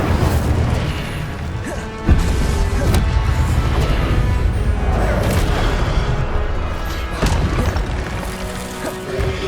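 Incendio fire spell cast in Hogwarts Legacy: loud, close crashes and booming bursts with a sharp hit near the start and more impacts later, layered over a continuous rumbling game soundscape, with faint voices in places.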